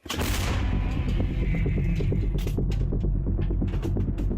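A loud, close howitzer blast fired by an artillery company at war, followed by a long, rumbling roar and rattling that stays loud throughout; no voices.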